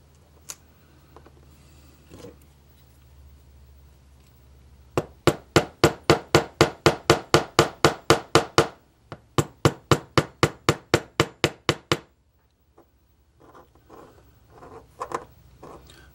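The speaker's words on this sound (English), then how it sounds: "Tap into place with a small hammer." A small hammer taps parts of a RoundHouse 2-8-0 model locomotive into place: two rapid bursts of about a dozen sharp metallic taps each, close and crisp, with a few scattered knocks before and after.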